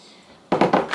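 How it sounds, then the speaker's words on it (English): Two cups of water splash into a cooking pan on the stove in a home kitchen, a short burst of pouring that starts abruptly after near silence and comes in three close surges. "We're gonna add that to the pan."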